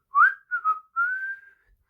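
A person whistles a short melodic phrase at the start of an a cappella song, a few brief notes followed by one longer sustained tone, clear and solo.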